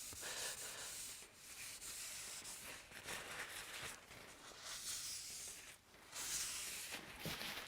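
Cloth or abrasive pad rubbed hard over a rusty workshop machine bed coated in WD-40, a steady close scrubbing hiss with strokes rising and falling in brief pulses, no talk.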